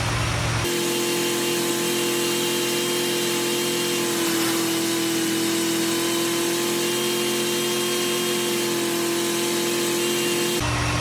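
A 1961 Cadillac hearse engine runs steadily nearby with a constant droning hum and no voices.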